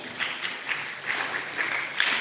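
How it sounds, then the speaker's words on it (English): Conference crowd at a WordPress community event clapping for a presenter, a short moderate burst of applause with soft, slightly uneven rhythm. "Can you give him another hand clap?"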